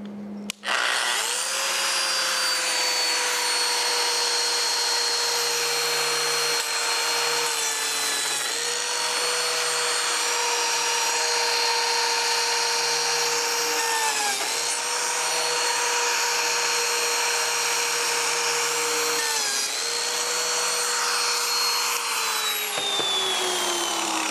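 A biscuit joiner whines steadily for a long stretch with its pitch dipping a few times as it cuts into wood, loud and close, with no talking.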